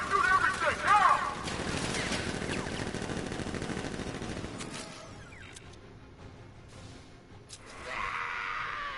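Guards in Batman: Arkham Knight open up with rapid automatic gunfire, a dense sustained fusillade that fades after several seconds into quieter ambience, with voices calling out over it.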